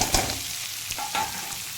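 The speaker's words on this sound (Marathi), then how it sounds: "कांदा आपण आता चांगला लाल होईपर्यंत छान असा परतून घ्यायचा" Onion frying in hot oil with mustard seeds and cumin for a tomato chutney, a steady close sizzle with a few soft stirring scrapes, no talking.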